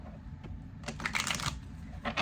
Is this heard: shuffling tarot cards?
yes